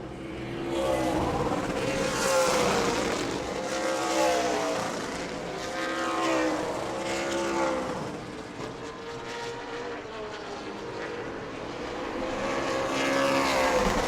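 ASA Stars National Tour race cars run final practice laps at New Smyrna, engines swelling and fading in repeated passes of moderate loudness, with some cars nearer than others and no talk.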